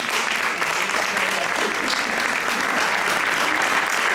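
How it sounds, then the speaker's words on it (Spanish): Applause from an audience at a talk, a dense, steady clatter of many hands clapping that fills the whole stretch without pause. "Y pido un aplauso enorme para Sara y Berta por sus aportaciones."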